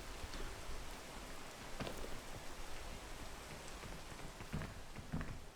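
Steady rain falls in the video game PEAK, an even, continuous hiss of fairly quiet drops with a few slightly louder patters and no talking.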